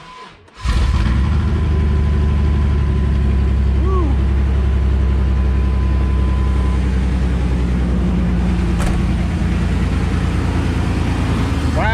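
A Chevrolet S10 race truck engine cranks and catches almost at once, then settles into a loud, steady, rumbling idle close by. A faint whine comes and goes over the idle.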